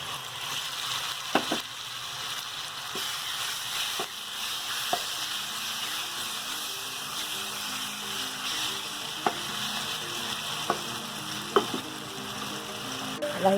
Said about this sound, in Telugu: లైట్గా ఫ్రై చేసుకుందాం.